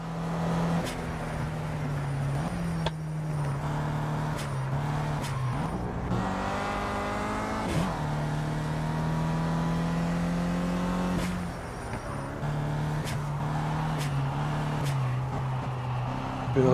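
A race car engine in the Project CARS video game drones and revs continuously, its pitch climbing through the gears and dropping at each shift, loud and close throughout.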